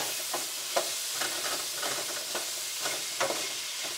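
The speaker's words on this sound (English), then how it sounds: "The vegetables and some turmeric and some curry leaves. Mix it all together very well." Vegetables with turmeric and curry leaves being stirred in a hot pan for Sri Lankan stir-fried noodles, giving a steady close sizzle with scraping stirs throughout.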